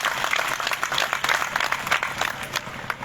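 A crowd at a political conference claps to welcome a guest, a dense, even burst of applause with crisp individual claps that runs continuously and fairly close.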